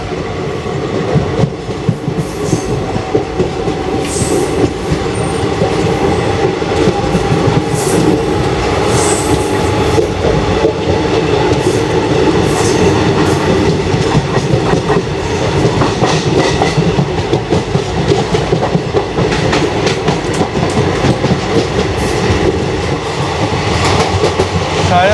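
The Vidarbha Express bound for Nagpur rolls along the tracks, with loud, close rhythmic clickety-clack of wagon wheels, a steady rumble and occasional thin wheel squeals.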